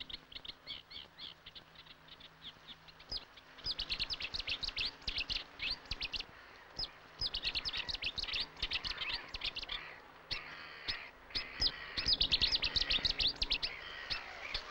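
Cetti's warblers call from willow reeds in a wetland, with loud, abrupt bursts of song repeating in short clusters and rival birds answering one another, nearby and clear, no talk.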